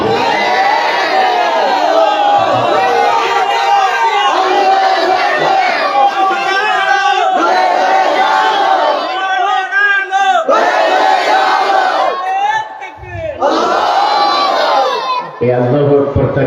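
A large crowd roars slogans in unison at a religious gathering, loud rhythmic chanted shouts rising and falling in waves, with a leader's voice calling out between the responses.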